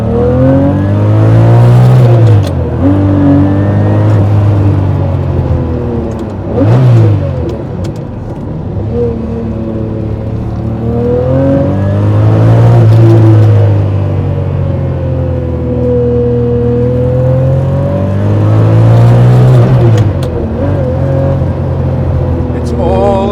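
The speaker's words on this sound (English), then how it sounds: "that 2B exhaust sounds just right" A Lamborghini Murciélago V12 engine revs up and down repeatedly while driving, loud and close, with rising and falling roars and brief gear-change dips.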